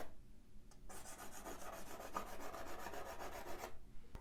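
Soft pastel scribbles across paper, producing a close, continuous raspy rubbing for about three seconds that starts and stops abruptly in quiet surroundings.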